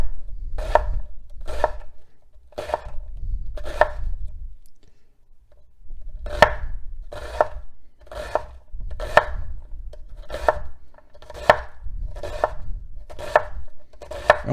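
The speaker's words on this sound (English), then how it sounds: "I can go ahead and begin to dice" Knife dicing an onion on a cutting board with steady, evenly spaced chops close by, a brief pause partway through, then the rhythmic chopping resumes to the end.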